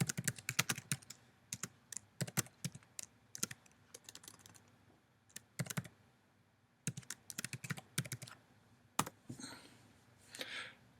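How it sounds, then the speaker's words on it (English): Computer keyboard typing in bursts of quick, close clicks and key taps separated by short pauses, with no talking. "we're going to type in our business page"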